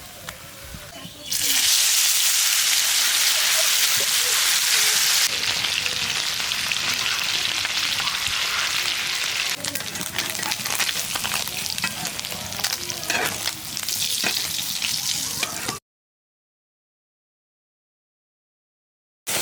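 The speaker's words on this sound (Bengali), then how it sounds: "মাছগুলো ভাজা হচ্ছে এই ভাজা হয়ে গেছে" Small puti fish sizzle and crackle steadily in hot oil for several seconds, loud and close, before cutting to silence.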